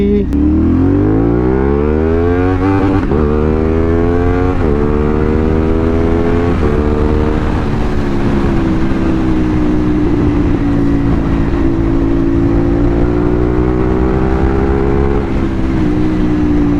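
A CFMOTO 450SR motorcycle accelerates hard through several gears, its engine note rising repeatedly between shifts before settling into a loud, steady high-speed drone with wind rush, close and continuous.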